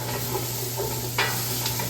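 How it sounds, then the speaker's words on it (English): Moist ground beef sizzles and steams in a pot for quesadillas, a steady close frying hiss with a low hum beneath and occasional stirring scrapes. "there's obviously moisture in this ground beef and it's steaming as it's cooking a little bit"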